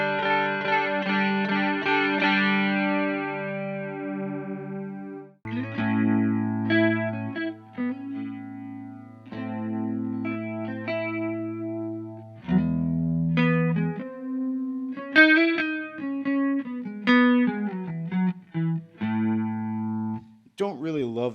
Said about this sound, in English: we could use the Strymon Deco for chorus